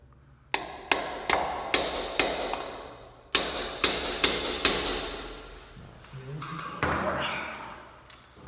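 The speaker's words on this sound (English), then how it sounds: "Grab your hammer and just bang on this right here." A hammer strikes a metal part of a Potter OSYSU-2 switch in a steady series of sharp, ringing bangs, two groups of hits with brief pauses, loud and close.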